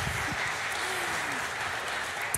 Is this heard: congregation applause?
yes